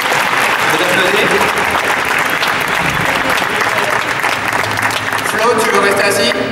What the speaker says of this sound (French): Je vais t'applaudir.